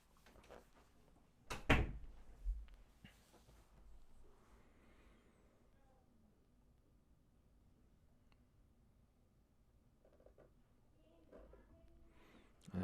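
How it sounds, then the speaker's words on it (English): A door swings shut indoors with a single solid thud, followed by a softer knock and a low room hum; faint movement returns near the end. "Close the door, please."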